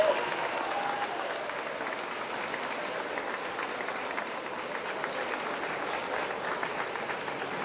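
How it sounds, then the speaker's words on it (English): A round of applause from the audience at a student award ceremony, with continuous dense clapping at an even level throughout and faint crowd murmur beneath. "Let's give them one more round of applause"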